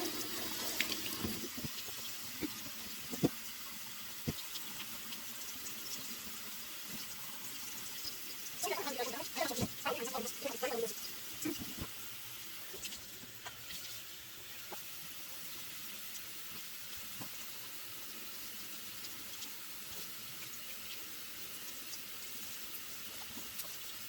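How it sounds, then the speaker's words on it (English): Eru (okazi) vegetables washed by hand under a running kitchen tap, a steady broadband water stream with brief splashing bursts midway as the leaves are rinsed, no talk. "So just take your time and you wash it very well."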